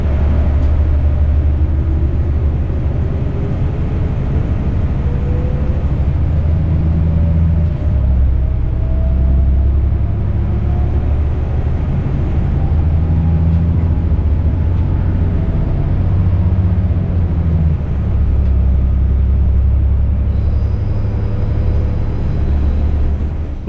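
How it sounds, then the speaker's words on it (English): Regional train on the Nahe Valley Railway just out of Saarbrücken toward Frankfurt, heard from inside as a steady loud low rumble with a rising and falling motor whine, no talk. "now it's time to listen to the sound of the train"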